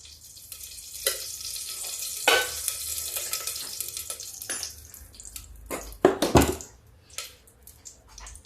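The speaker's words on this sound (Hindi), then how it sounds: "अब मैं इसमें 1 स्पून घी डालती हूँ, देसी घी।" Faint sizzling and frying of desi ghee in a cooker, with a few sharp clinks and scrapes, quiet background hiss punctuated by louder bursts near the end.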